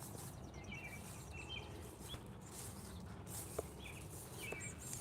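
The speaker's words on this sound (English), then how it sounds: "listen to the birds. They're happy." Faint birdsong chirps and twitters drift in from a distance over a steady outdoor background hum, with a few brief calls standing out.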